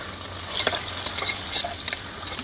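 Onion, tomato and green chilli fry in hot mustard oil with whole garam masala for chicken pulao, a loud close sizzle broken by repeated stirring scrapes and clinks, no talking.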